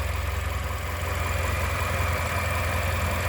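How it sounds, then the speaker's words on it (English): A 2020 Chevrolet Equinox idles smoothly and evenly, its motor producing a low, steady hum with a faint rhythmic pulse, heard up close and alone. "Okay, with the motor running,"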